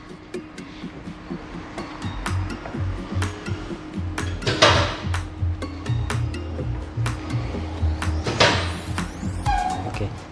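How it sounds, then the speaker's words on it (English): A tire is clamped onto a wheel balancing machine in a workshop, giving scattered metallic clanks, clicks and knocks over a low mechanical hum, moderately close. "as he's clamping the tire on the machine, and he's going to take the measurements of the tire."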